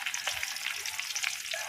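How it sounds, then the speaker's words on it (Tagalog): Chicken pieces frying in hot oil in a pan over a charcoal stove on a rooftop, a dense, steady crackling sizzle heard close up with no voices. "Start na tayo magprito."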